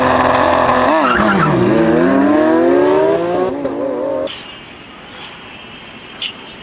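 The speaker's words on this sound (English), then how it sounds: "Nice high-speed racing car" A high-speed racing car sounds a loud, sweeping engine whine with rising and falling pitch and tire squeal, then fades away and leaves a quieter background with a brief knock near the end.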